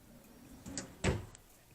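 A small drawer in a hotel closet slides open, a soft scrape followed by a quick low knock, close and quiet in a still room.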